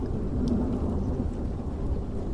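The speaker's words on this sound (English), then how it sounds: "forked lightning cracked down from the sky, striking each standing stone in succession" A thunderstorm over a circle of standing stones: a deep, continuous rumble of thunder rolls under steady rain, loud and sustained throughout with no voices.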